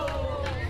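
Crowd at a sword-fighting tournament match, a brief burst of energetic shouting and cheering voices, loud and close.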